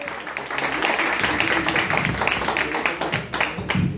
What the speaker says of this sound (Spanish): Fuerte el aplauso, bien bonito,